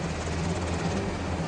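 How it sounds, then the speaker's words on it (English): A military helicopter flies over Baghdad, Iraq, its rotor and engine making a steady, loud, continuous drone throughout. "we're taken by helicopter because the streets aren't safe"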